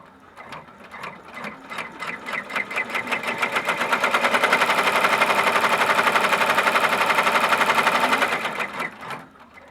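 An embroidery machine runs a tack-down stitch on fabric for a ribbon-loop key fob, a fast, even mechanical clatter that builds up, holds steady at full speed for several seconds, then slows and stops.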